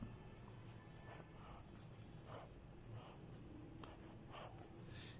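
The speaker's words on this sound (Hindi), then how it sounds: "लेकिन आपको करना क्या है, आपको यहाँ पर लिखना है" A pen scratches on paper in short irregular strokes, faint and close, with soft breathing and low background hiss.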